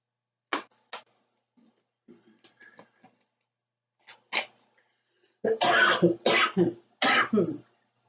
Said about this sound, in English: just had a bit of a tickly throat and a bit of a coughing session